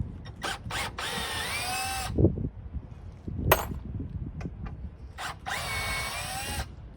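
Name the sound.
power drill removing Phillips screws from old lumber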